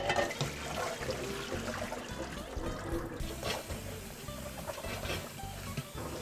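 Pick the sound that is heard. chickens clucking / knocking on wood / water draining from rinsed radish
water draining from rinsed radish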